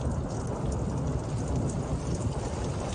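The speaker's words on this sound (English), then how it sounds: "Hear the thunder." Thunderstorm over Mecosta County, Michigan, north of Big Rapids, during a February tornado outbreak: a steady, dense wash of rain with low rumbling thunder blended in, continuous and moderately loud, no voices.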